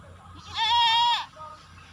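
A Black Bengal goat on a farm lets out a single clear, nasal bleat lasting under a second, fairly close, against quiet background hum.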